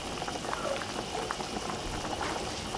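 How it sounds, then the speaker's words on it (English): Cabbage shchi soup bubbling in a pot on the stove, a steady low simmer with soft popping bubbles running continuously and fairly quiet. "this has been boiling for, I don't know, maybe close to 7-8 minutes"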